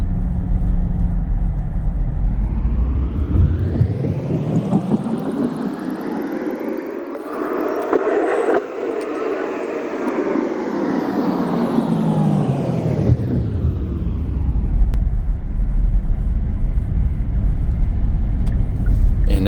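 A Kia EV6 on new tires cruises along a highway at about 70 miles per hour, a steady loud cabin rumble of road and tire noise that swells and falls as the car passes something, with no talk.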